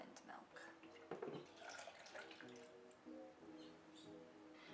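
Water and almond milk pour into a pan of oats with trickling, splashing liquid sounds, while a person talks over it.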